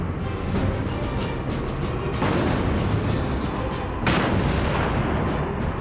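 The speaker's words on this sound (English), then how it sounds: "We take the shell, we put it in the cannon, we aim, and we fire." A tank cannon fires its shells in a World War II armored battle, loud booming blasts with a crack and rolling echo, at least two big shots over a continuous roar of battle.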